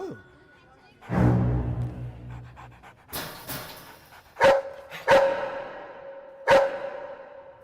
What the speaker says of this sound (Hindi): ओए, ये तो कुत्ता है।